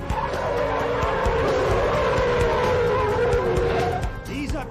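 A truck with a Caterpillar engine, pushed uphill on a highway, gives off a loud, sustained engine roar with grinding and skidding noise that carries on steadily without a break.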